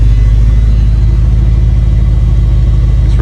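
The old shop truck's engine idles with a loud, close, steady low rumble and a faint rhythmic chug that pulses evenly throughout, with no one talking.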